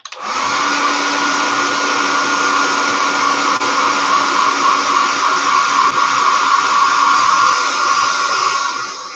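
Hair dryer blowing steadily to dry paint on a Revell 1/72 Sherman M4A1 scale model; a loud, continuous whooshing drone held at even strength throughout, with no talking.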